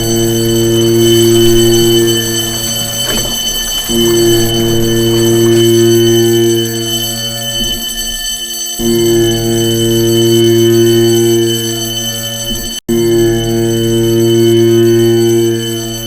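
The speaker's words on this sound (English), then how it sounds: "sound the alarm" A ship's alarm bell rings aboard the hospital ship Britannic as it sinks, a loud, sustained tonal ringing with a few brief breaks, layered over steady mechanical drone.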